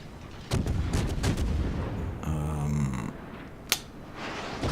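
Naval artillery booms from the World of Warships game as a Cleveland cruiser trades fire, with muffled deep shots rumbling under a steady battle ambience and one sharp crack near the end.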